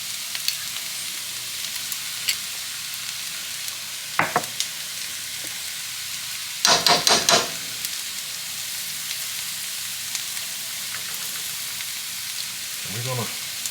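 A heap of garlic, about two large tablespoons, sizzling in a hot pan, a constant close frying hiss broken by a few scraping stirs and a quick burst of clatter.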